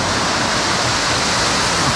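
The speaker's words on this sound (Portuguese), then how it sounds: "Aqui uma quedinha d'água." A small waterfall on a river tributary near Morretes, Paraná, roars as a steady, dense rush of falling water, loud and close, with no voices over it.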